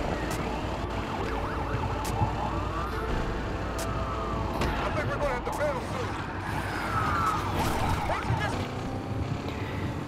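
Police car sirens wail in a Need for Speed Unbound chase, rising and falling over engine and traffic noise with players talking throughout.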